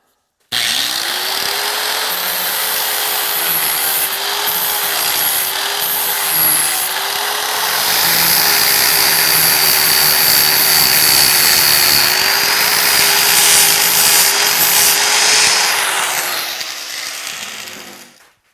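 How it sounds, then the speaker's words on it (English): A knife forged from a horseshoe being rough-ground, a steady loud grinding whine with a rising and falling motor pitch that runs almost continuously before tapering off near the end. "You just start grinding."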